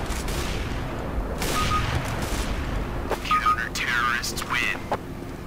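Counter-Strike: Global Offensive gunfire crackles in bursts over a steady background din, with a person talking throughout.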